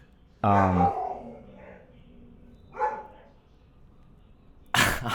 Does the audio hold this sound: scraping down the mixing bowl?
no